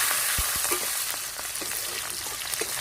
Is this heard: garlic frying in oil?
yes